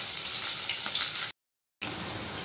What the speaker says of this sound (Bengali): প্রথমে আমি পটলগুলো দিয়ে দিলাম, একটু নুন হলুদ মেখেই দিয়েছি, দিয়ে পটলগুলো একটু লাল লাল করে ভেজে নেব।